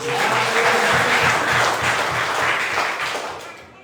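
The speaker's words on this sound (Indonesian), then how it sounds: "Mari berikan tepuk tangan buat Tuhan." Applause fills a church service, a congregation clapping for God in a dense, steady wash of claps that runs throughout and fades slightly toward the end.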